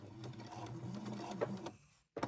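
A sewing machine steadily stitches a Christmas tree napkin to lock a stitch, whirring close and even for about two seconds before stopping, followed by a brief clatter.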